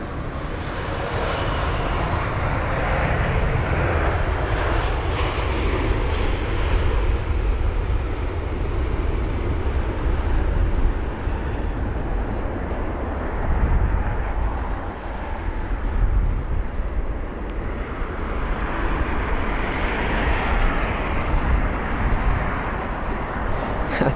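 A smaller jet at London Heathrow makes a sustained, moderately loud engine roar that swells and shifts in tone over the whole stretch, with no talk.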